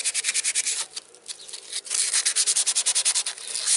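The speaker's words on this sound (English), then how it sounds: "What I'm using right here is a 220 sandpaper," A knife blade rubbed by hand with 220 grit wet-dry sandpaper, close rhythmic back-and-forth rasping strokes in quick bursts with a brief pause in the middle, no talk.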